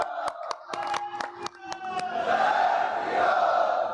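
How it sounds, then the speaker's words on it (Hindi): Audience at a Hindi poetry-style stage event claps and cheers from one side of the hall; a few sharp separate claps at first, then building into a dense continuous wash of applause and shouting. "हमारे वाम भाग की ओर से बहुत तालियां और शोर आ रहा है।"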